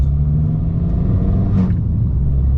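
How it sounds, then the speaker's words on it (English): A steady, low engine burble from a Fiat 500 Abarth hatchback with a Stage 2 tune idling nearby, deep and rumbling throughout without any voices. "The sound of it does give a nice little burble, and it's not too much"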